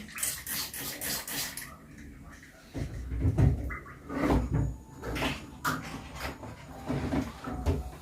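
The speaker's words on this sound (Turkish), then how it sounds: "Bir dakika biraz da sirke dökeyim." Vinegar is poured for a cleaning job, a gurgling liquid splash into a container mixed with knocks and clatter of bottles and surfaces, close by, with someone speaking briefly.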